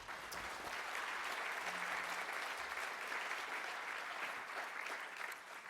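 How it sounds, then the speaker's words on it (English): Steady audience applause for panellists at a women CEOs panel event, continuous dense clapping at moderate volume without speech. "A big round of applause for them."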